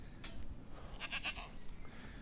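Goats on a farm, one with a troublesome udder, bleat in a few short cries at mid distance over a low steady background hum, with no talking.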